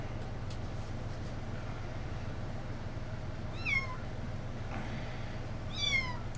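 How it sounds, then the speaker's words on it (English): Kittens hidden under a shack give two short bursts of high meows, one near the middle and one near the end, over a steady low hum. "There's more kittens out there that are underneath the shack."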